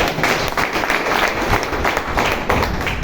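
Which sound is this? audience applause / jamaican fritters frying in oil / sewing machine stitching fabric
audience applause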